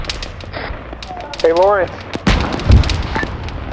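Enemy gunfire during a military-style team operation, sharp scattered cracks and bursts mixed with radio chatter and talking, a whistling tone in the middle and heavier impacts toward the end.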